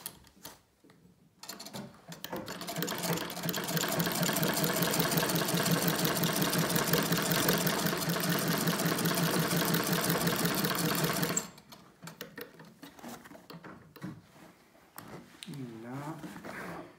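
A sewing machine stitches a rolled-up tote bag, running loud and steady for about nine seconds before stopping, with brief handling sounds and quiet talk before and after.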